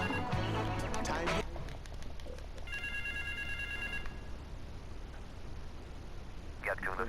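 A phone rings at a park in Grand Theft Auto 3, a repeating electronic ringtone amid game ambience, with a brief voice heard at the start.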